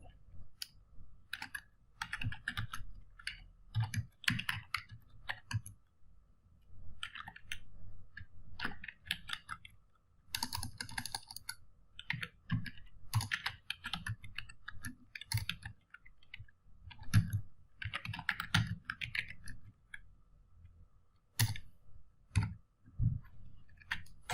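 Keys clatter on a computer keyboard while typing in Microsoft Word, quick irregular bursts of close, crisp clicks separated by short pauses, continuing throughout.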